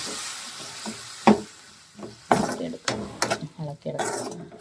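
A spoon scrapes and stirs potato masala for masala dosa in a pan after the boiled-potato water is added, giving irregular close knocks and scrapes over a soft sizzle.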